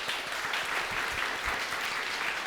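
A church congregation at a Sunday youth service claps steadily, a soft, even patter of many hands from across the room lasting throughout with no voices over it.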